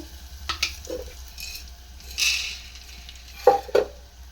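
Peanuts and curry leaves fry in a pan for a Rayalaseema puffed-rice snack, giving a soft ongoing sizzle broken by a few sharper crackles and stirring scrapes, moderately close with no talking.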